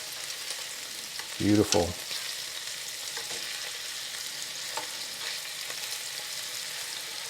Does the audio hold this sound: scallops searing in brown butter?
yes